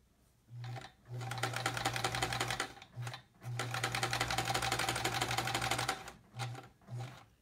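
A sewing machine with its needle not seated all the way in runs in two long bursts and a few short ones, giving a clattering, odd-sounding rattle with brief pauses between runs.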